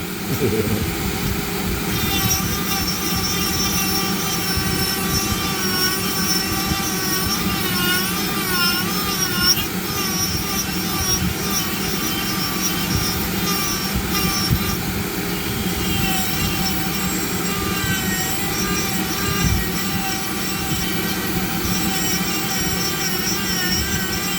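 A Dremel 4300 rotary tool spinning around 25,000 RPM carves a zebra wood pipe held in a vise, giving a continuous high whine with grinding that shifts as the bit bites. The tool is loud and close throughout.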